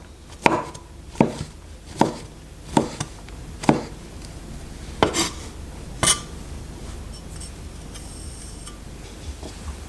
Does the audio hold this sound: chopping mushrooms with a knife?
yes